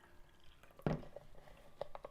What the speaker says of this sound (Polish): Ja sobie tu pozwolę łyczka wody wziąć.